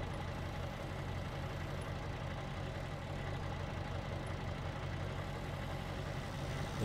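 A Duramax pickup truck engine idling in Farming Simulator 19, a low steady rumbling drone that holds constant throughout, close and uninterrupted with no talk.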